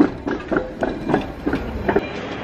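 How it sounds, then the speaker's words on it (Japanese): A street tram rolls through central Sofia, Bulgaria, its wheels making a rhythmic clickety-clack over rail joints with a steady rumble, moderately close and loud. "路面電車が街中をたくさん走ってます。"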